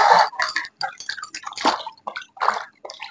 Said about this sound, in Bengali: এবারে আমি একটু হাতটা ধুয়ে নিই।